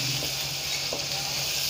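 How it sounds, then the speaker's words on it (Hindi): Minced keema meat fries with green chillies in a pan over medium-high heat, giving off a steady close sizzle and hiss with a few faint stirring scrapes. "और अब मैं इसको अच्छी तरह से फ्राई करूँगी"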